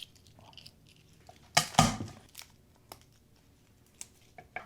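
Papery skin being peeled off garlic cloves: sparse, faint crinkles and crackles with a few louder crumpling bursts near the middle, close up and quiet.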